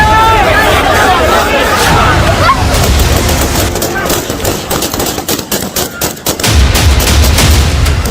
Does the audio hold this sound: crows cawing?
no